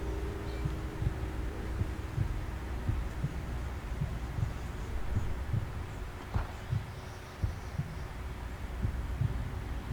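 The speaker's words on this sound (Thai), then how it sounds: "ได้ยินเสียงหัวใจปะ" Slow, regular heartbeat thumps in the Roblox horror game The Mirror, low and muffled over a constant hum, repeating steadily without speech.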